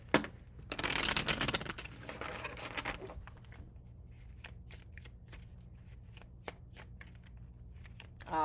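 Tarot cards being shuffled, a loud burst of riffling and flapping card edges early on, followed by quieter scattered taps and soft card handling.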